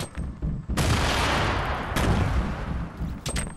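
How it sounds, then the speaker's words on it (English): Fortnite gunfire in a dense, loud burst of rapid shots, with explosive blasts layered together and a few sharp trailing cracks at the end. "Yeah, I shot him a few times."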